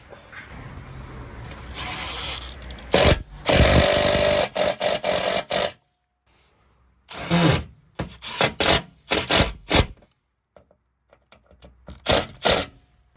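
A power tool drives screws into an aluminum belly pan under a BMW E90 335d, with loud, close bursts of whirring and clatter broken by short silent pauses.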